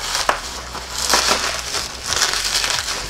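Packaging around a new Native Slayer Max Propel kayak steering handle is cut and torn away, giving a few close crinkling, crunching bursts with a sharp snap near the start.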